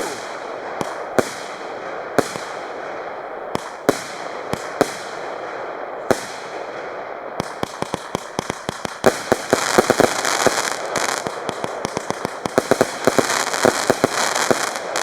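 A 20 mm fireworks cake fires shots high into the sky: spaced sharp bangs at first, then a rapid crackling volley of launches and bursts, loud and close throughout.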